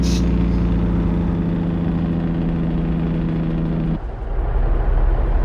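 A Kenworth K200 truck engine in a driving simulator game at low RPM gives a deep, steady drone with a humming tone, which breaks off abruptly near the end into a rougher rumble.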